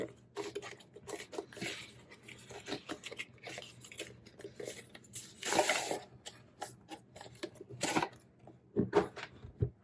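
Cardboard packaging for a Nahvalur Nautilus Grand Rhapsody fountain pen is opened close up, with a series of rustles, scrapes and crinkly tearing bursts in irregular bursts.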